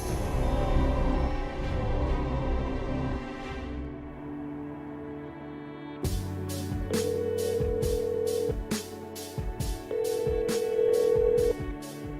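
A telephone rings repeatedly and goes unanswered, the regular bursts of ringing sounding over a musical background score, with no voices heard.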